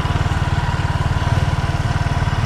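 Motorcycle ridden on a practice test drive around a grassy lot, its engine a close, loud, steady putter with rapid regular pulses throughout.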